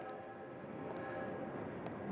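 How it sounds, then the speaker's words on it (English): A train pulls into a station with a steady, heavy rumble and rolling clatter, a faint high whistle-like tone surfacing briefly now and then. "As the train pulls in"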